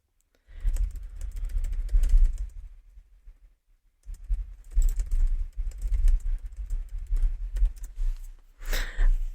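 Keyboard typing on a computer, a steady run of close, light key clicks in two bursts with a short pause between, ending with a brief sharper sound.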